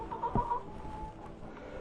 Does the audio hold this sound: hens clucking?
yes